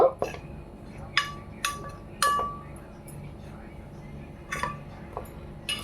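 A spoon mixes chopped coriander, grated ginger and garlic in a bowl for paneer manchurian. Sharp, bright clinks come at irregular moments over a quiet background.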